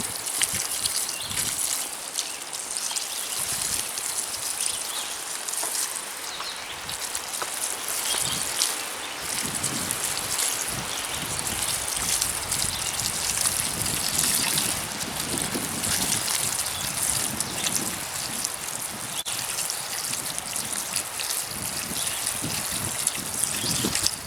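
Newly planted tomato plants in a garden are watered with a steady spray of water pattering on leaves and soil, a continuous rushing hiss with soft rustling throughout, close by and without talk.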